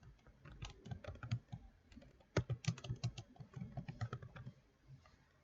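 A name is typed on a computer keyboard in quick, uneven bursts of crisp key clicks with one louder thump midway, close up in a quiet room.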